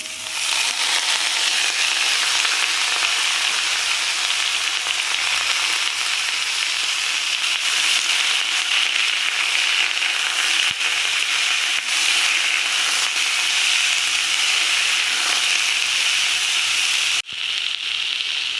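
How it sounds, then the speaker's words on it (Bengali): Chopped tomatoes fry with potatoes and slit green chillies in a pan for a fish curry, giving a steady loud sizzle and crackle that runs unbroken, with a brief stir near the end. "তো দেখো টমেটো একটু ভাজা ভাজা হয়েছে"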